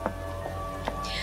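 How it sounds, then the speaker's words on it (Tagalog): Steady rain falling at night, a soft continuous hiss of drops with a few brief sharper ticks and patters scattered through, fairly low and even throughout. "lalo na't umuulan"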